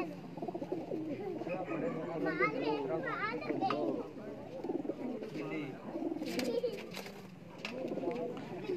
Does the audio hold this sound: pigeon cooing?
yes